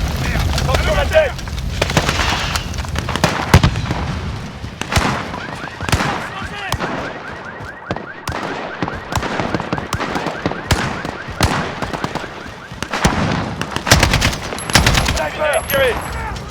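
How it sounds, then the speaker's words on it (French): Battle sounds from Call of Duty Modern Warfare, with a Hellfire missile strike called onto a building: scattered sharp shots and booming blasts recur throughout, mixed with voices talking. "Balancez-moi un Hellfire sur ces salopards."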